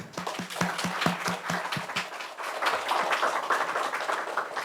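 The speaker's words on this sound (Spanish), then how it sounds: "Un fuerte aplauso para nuestros invitados." Audience applause for guests at a journalism festival book presentation in Peru, starting with a few distinct claps that swell into steady, moderately loud clapping from a room of people.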